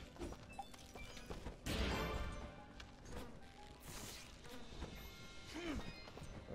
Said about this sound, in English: We're not gonna mess with the bees!